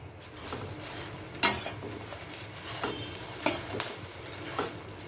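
Chillies are dry roasted in a kadai: a steady rustling hiss with sharp scraping strokes of a spatula against metal every second or so, with no talking.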